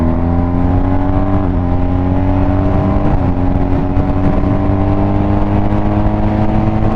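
A BMW R1250GSA motorcycle engine runs loud and close, its pitch climbing steadily as it revs and accelerates, with a brief dip and another rise partway through.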